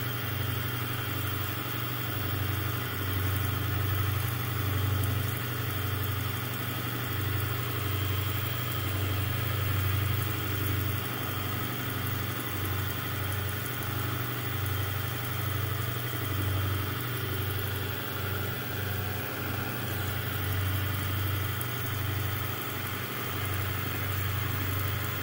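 A PM-25MV milling machine cuts half an inch deep at a spindle speed of 1760, giving a continuous loud motor hum and steady machining drone with no pauses.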